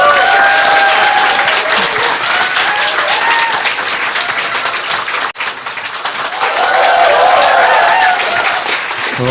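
Steady studio audience applause on a Korean political talk show, loud continuous clapping for several seconds with a brief dip midway before resuming at full strength, no voices over it.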